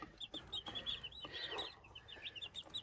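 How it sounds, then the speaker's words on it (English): Baby chicks and baby turkeys peep and chirp repeatedly in high, rapid calls, close and fairly quiet, many birds overlapping. "the baby chicks and baby turkeys"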